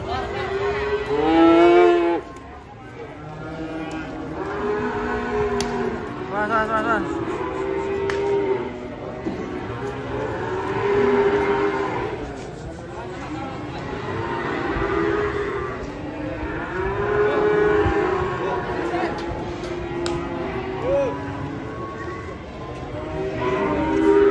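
Several cattle moo loudly and repeatedly amid crowd commotion as a rampaging bull comes down from a truck at Pasar Pon Ambarawa livestock market, with voices shouting and murmuring around.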